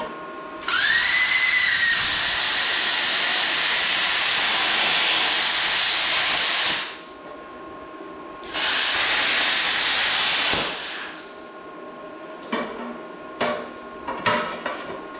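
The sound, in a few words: Vevor plasma cutter cutting metal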